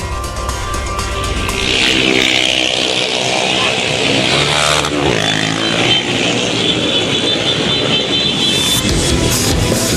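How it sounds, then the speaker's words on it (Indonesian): Hundreds of gang motorcycles in a convoy fleeing against traffic, loud and continuous, with many engines revving and droning together in a dense, chaotic roar that swells and shifts throughout. "ratusan motor yang konvoi mencoba kabur dengan melawan arah"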